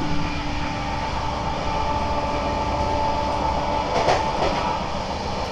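Rajdhani Express running from Kolkata (Sealdah) toward Delhi, heard from inside near the engine coach: a steady, loud low rumble of rolling wheels and carriage noise, with faint rattles and a brief metallic clatter near the end.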